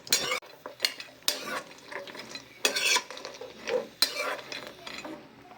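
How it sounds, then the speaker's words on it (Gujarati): Cashews being dry-roasted in a pan and stirred with a utensil, giving repeated scraping strokes and light rattling of nuts against the metal, close and fairly quiet, with no talking. "દરેક ડ્રાયફ્રૂટ આ રીતે શેકી દઈશું। શેકવાથી ખૂબ જ સારો એવો ટેસ્ટ આવતો હોય છે। પહેલાં કાજુ શેકી દઈશું।"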